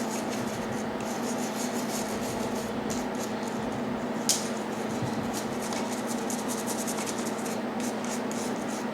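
A brush rubs excess material off a cast aluminum AK-47 part in a steady, close scratchy sweep, with one brief sharper scrape partway through.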